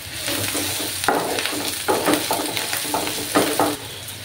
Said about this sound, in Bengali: আদা রসুনের কাঁচা গন্ধ না যাওয়া অবধি আমি এটাকে কষাতে থাকবো।